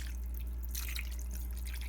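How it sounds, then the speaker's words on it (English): Gelatin mixed with fish broth is poured into a dish, giving a soft liquid trickle and light splashing over a low steady hum, close and quiet with no talk. "I'm just gonna pour some of this in there."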